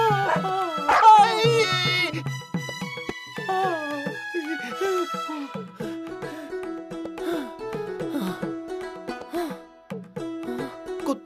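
A cartoon dog yelps, whimpers and barks in a busy animated soundtrack, with expressive yips and whines over music and effects throughout.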